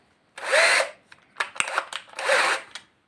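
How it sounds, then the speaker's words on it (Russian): A cordless screwdriver spins a brake caliper part from a Toyota Corolla Fielder clamped in a vise: two short, close whirring bursts with clicks and rattles between them. "Вот вставил в шуруповерт."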